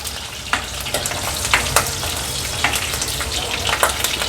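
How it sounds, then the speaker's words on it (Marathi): Steady sizzle of green chillies and garlic cloves sautéing in a little oil for a Ghol fish bone curry, with light scraping stirs and clinks of a spatula recurring every half second or so. "मिरच्या आणि लसणाच्या पाकळ्या थोड्याशा तेलावर अशा परतून घ्यायच्या आहेत"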